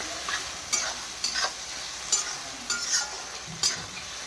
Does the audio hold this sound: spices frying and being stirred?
yes